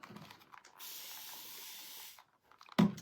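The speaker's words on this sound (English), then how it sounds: "We're just spraying a little bit of water on it." A spray bottle mists water onto a resin piece with one sustained hiss lasting just over a second, framed by faint handling clicks and a sharp knock near the end.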